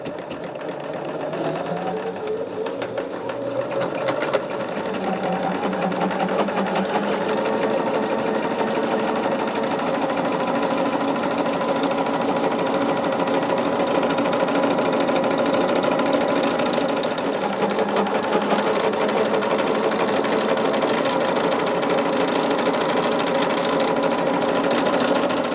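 A sewing machine stitches quilt block pieces for a Double Monkey Wrench quilt, running in a fast, steady, close mechanical patter that continues without a break for the whole stretch, no voices.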